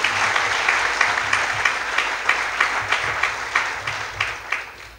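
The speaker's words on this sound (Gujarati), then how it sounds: "એવા તમામ મહેશભાઈ સહિતના મહેમાનોને જોરદાર તાળીઓથી વધાવો" A crowd of guests bursts into sustained applause, steady dense clapping that holds through the whole stretch with a few louder individual claps standing out near the end.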